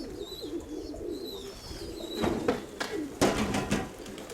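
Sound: pigeons cooing in a loft with young pigeons

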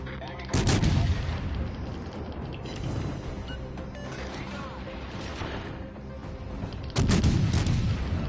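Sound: naval gunfire hitting ship in video game World of Warships

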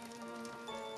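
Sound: rain falling

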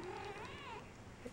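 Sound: Persian kittens in nursery

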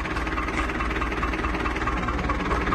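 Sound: small tractor engine idling

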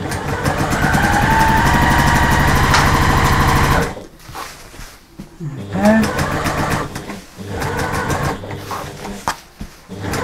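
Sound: sewing machine stitching a cushion seam

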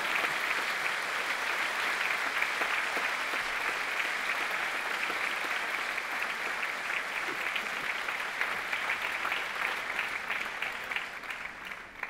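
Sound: audience applause after a talk

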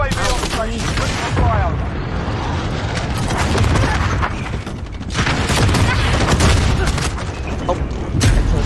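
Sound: friendly VTOL aircraft and gunfire in video game Modern Warfare

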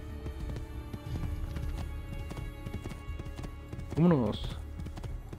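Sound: horse galloping in a video game

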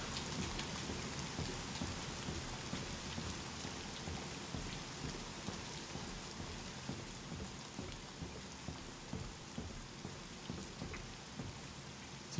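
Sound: rain falling

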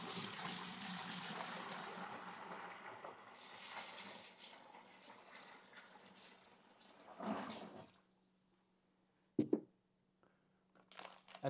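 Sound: hot water poured into a bucket for rum mash

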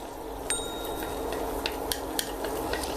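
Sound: garlic frying in oil in a pan

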